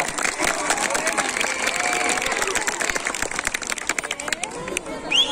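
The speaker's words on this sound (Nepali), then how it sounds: "एकपटक जोरदार ताली" Applause from the audience at a comedy show at an annual festival: a steady, dense wash of clapping from a crowd, sustained for several seconds and loosening toward the end.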